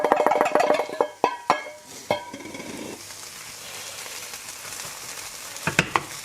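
Parsley is thrown into a hot Dutch oven for an old-school lasagne, with a few sharp knocks and clatters at first, then a steady hiss of frying that holds on, and a couple more clanks near the end.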